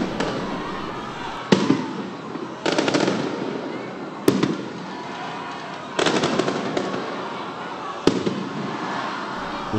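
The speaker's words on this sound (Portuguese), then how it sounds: "Os rojões." Repeated sharp firework rocket bangs burst over a steady crowd roar at a political rally during a speech by Lula, with several loud explosions spaced a second or two apart.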